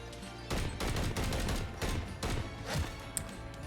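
Battle rifle gunfire in Modern Warfare 3, loud close bursts of rapid shots in several strings with short gaps between them, punchy and dense.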